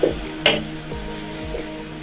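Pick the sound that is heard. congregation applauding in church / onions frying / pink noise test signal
onions frying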